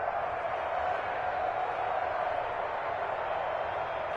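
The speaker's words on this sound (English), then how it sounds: "this crowd urging on their defense. They're up and making noise." A large crowd roars steadily in a big open space, a continuous wash of cheering and shouting that holds level throughout; football stadium crowd urging on the defense on third down.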